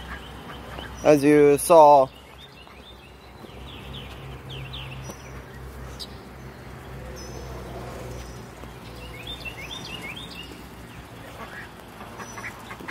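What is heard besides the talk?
ducks and chickens outdoors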